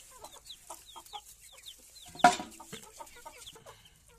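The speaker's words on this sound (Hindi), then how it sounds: "ये वाले वो हैं बच्चे, ये मुर्गा है और ये मुर्गी है" Young pure desi Haryana breed chicks, a rooster and a hen, cheeping in quick repeated high chirps, with a louder clatter midway and the peeping continuing afterward.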